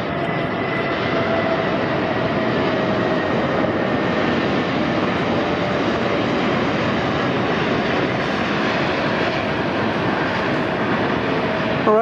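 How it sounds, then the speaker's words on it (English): An Asiana Airbus A380 on a long-haul flight from Seoul Incheon arrives on runway 24 left, its jet engines producing a steady, loud roar that stays constant throughout with no voices. "Arriving on 24 left."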